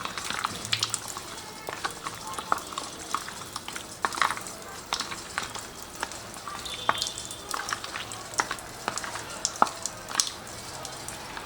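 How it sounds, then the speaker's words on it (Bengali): Raw chicken is squished and mixed by hand with ginger garlic paste for chicken lollipops, giving wet, irregular squelching and slapping sounds close up, with no talking. "তো এগুলো দিয়ে আমি ভালোভাবে চিকেনটাকে মাখিয়ে নিচ্ছি।"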